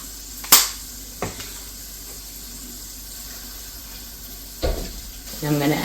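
Shrimp sizzle in a hot pan as a steady, even hiss with a few sharp clicks and clinks from utensils near the start and end.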